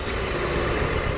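Driverless bulldozer approaching, a steady low engine rumble with a broad mechanical roar, continuous and fairly loud, no voices.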